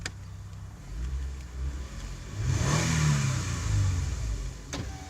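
A 2007 Toyota Sienna CE engine idles, then revs up and settles, heard steadily through an open window with moderate loudness and a brief click near the end.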